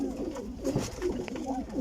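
A golden pigeon coos in repeated soft, low throaty bursts, close by and fairly quiet, with faint background noise.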